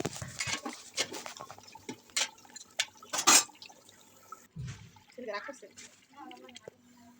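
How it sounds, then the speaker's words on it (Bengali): A pot lid clinks and a spoon scrapes and stirs through polao rice with egg, giving scattered clatters and soft wet stirring sounds at close range, while someone talks over parts of it. "এখন ভালো করে ঢাকনা উঠিয়ে নেড়ে চেড়ে মিশিয়ে নিব।"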